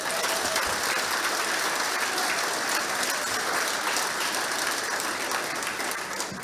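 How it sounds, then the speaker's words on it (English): A crowd applauds steadily for several seconds, with a thick, continuous wash of clapping that tapers slightly near the end. "So I'd like to give a big round of applause for Derek."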